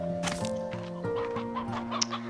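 Chickens in the video game Slime Rancher 2 cluck and squawk in quick, close, overlapping calls over a short burst.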